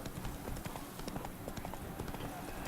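Horse hooves clip-clop at a quick, steady gait in The Witcher 3, the mount being a mare, with continuous game ambience and a voice speaking over it.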